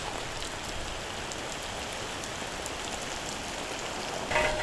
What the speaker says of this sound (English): the rain splashing on the ground itself